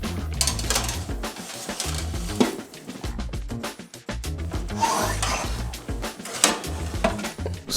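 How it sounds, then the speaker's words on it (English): Pecorino Romano grated by hand over pepperoni on a homemade pizza sandwich, making close, rhythmic rasping strokes over a low background hum, with no talking. "Start grating some Pecorino Romano over the pepperoni"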